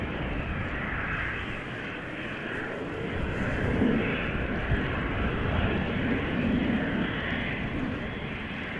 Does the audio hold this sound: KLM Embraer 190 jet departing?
yes